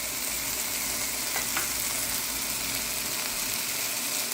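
Mushroom masala with coriander powder, cumin powder, Kashmiri chili powder and garam masala sizzles steadily in a pan, a constant close frying hiss with faint stirring scrapes.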